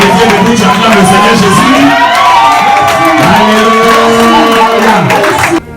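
A church congregation rises and acclaims the Lord, a loud, sustained wave of cheering, whooping and shouting voices with scattered clapping, filling the hall for several seconds before cutting off abruptly.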